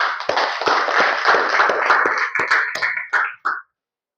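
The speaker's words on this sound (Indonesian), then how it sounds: "Tepuk tangan." Students in a lecture room applaud at the end of class, a short burst of clapping from a small group that thins out and stops after a few seconds.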